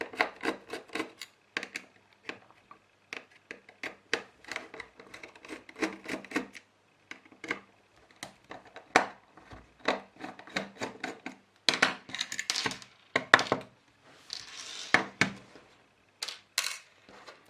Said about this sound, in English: The next thing we're going to do is unscrew these four screws.